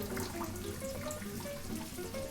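Tap water runs steadily over blanched broccoli in a kitchen sink, a constant close splashing wash with no pauses.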